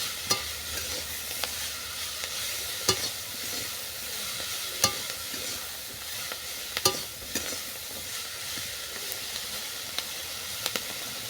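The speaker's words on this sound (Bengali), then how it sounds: "ডাঁটাগুলোকে মেরে চেড়ে ভালো করে ভেজে নিয়েছি" Malabar spinach stalks fry in a pan with a continuous close sizzle, broken by repeated sharp scrapes and clacks of a spatula as they are stirred.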